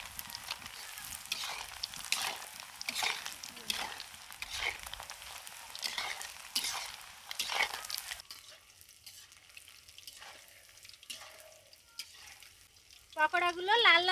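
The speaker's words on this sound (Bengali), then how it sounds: "এই পকোড়াটা কিন্তু অবশ্যই ডুবো তেলেই ভাজতে হবে" Chicken pakoras deep-fry in hot oil with a dense, crackling sizzle and bubbling, loud and close for about eight seconds, then the frying fades to a quieter hiss while a voice speaks over it.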